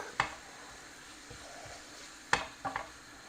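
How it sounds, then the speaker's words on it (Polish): Pork shoulder meat frying slowly in a pan gives a low, steady sizzle, broken by a few sharp clinks of a utensil against the pan. "Niech nam się tu tutaj powoli smaży"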